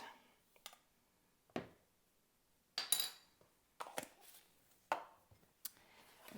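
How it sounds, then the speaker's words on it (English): Einkorn flour and salt are whisked together in a bowl, heard as sparse, quiet clinks and taps with short pauses between them. "Whisking that together."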